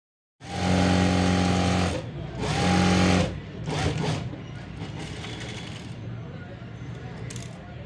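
Sewing machine running a fitting stitch on a heavy-size blouse, two loud, steady motor runs up close with a brief pause between, followed by quieter handling noise.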